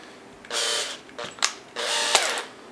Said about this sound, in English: put the spool on an electric drill.